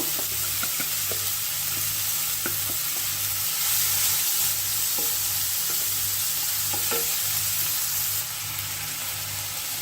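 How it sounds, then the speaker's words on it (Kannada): Chopped cluster beans frying in a pan for a Havyaka-style dish, a steady close sizzle with occasional stirring scrapes, alone with no talk. "ಇದನ್ನ ಇವಾಗ ಚೆನ್ನಾಗಿ ಫ್ರೈ ಆಗ್ಬೇಕು ಕ್ರಿಸ್ಪಿ ಆಗಬೇಕು ಅಲ್ಲಿವರೆಗೆ ಚೆನ್ನಾಗಿ ಫ್ರೈ ಮಾಡ್ಕೋಬೇಕು"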